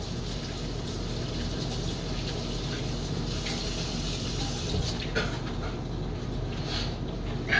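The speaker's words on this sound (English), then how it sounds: "We're going to wash our hands." Hands are washed under a running kitchen tap, giving a steady rush of water with soft splashing changes as the flow is interrupted, close and continuous.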